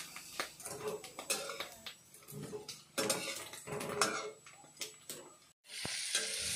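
Pork with onion, ginger, garlic, chilli and turmeric is stirred in a hot pan, giving a loud sizzle broken by repeated scraping and clanking of a metal spoon against the pan, close and without talk.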